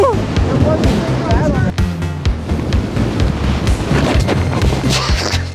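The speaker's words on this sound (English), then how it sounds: "Oh, where did this wind come from?" Strong wind buffets the microphone at a ski resort, roaring and gusting continuously and loudly, with people talking under the noise.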